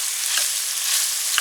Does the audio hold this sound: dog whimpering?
no